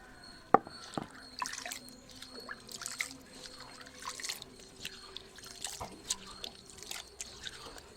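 Water splashing and dripping while a stone wet grinder is rinsed after grinding adai batter, with irregular close drips and small pours scattered throughout.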